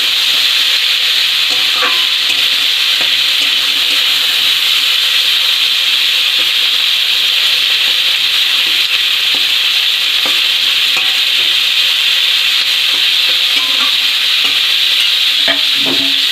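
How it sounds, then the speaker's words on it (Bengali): Ivy gourd fries in a pan with a steady, loud sizzle and hiss throughout, broken by occasional faint clicks of stirring and no voices. "এবারে খুলে একটু ভালো করে ভেজে নেব"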